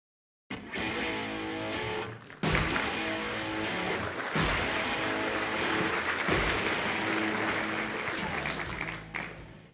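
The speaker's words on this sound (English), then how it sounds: "thank you for the warm applause" A lecture audience breaks into sustained, dense applause, loud and even for several seconds with a brief dip partway through before fading out.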